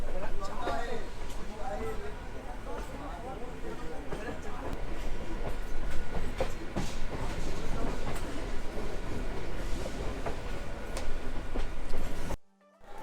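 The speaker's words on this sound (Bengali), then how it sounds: "ট্রেন এখন ধীর গতি দিয়ে শিয়ালদা স্টেশনে ঢুকছে" A train rolling slowly into Sealdah station at night, a steady rumble with rail clatter and clacking wheels, voices talking over the noise, ending in an abrupt cutoff.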